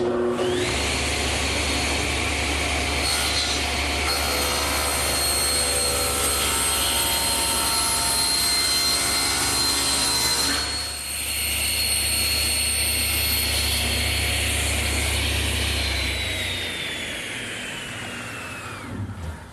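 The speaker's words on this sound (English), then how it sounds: "Oh, my panel cutter sure makes an easy job of squaring up the bottom." Panel cutter saw running steadily as it squares up wooden blanks for a hearth side settle, a loud continuous whine with a brief dip mid-cut before the motor winds down near the end.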